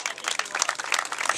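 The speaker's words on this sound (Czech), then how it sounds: "Prosím potlesk" An audience claps at a Czech chili-eating contest, Jihočeský Chilliman 2015 in Tchořovice, making a dense, steady patter of many hands that stays fairly loud throughout.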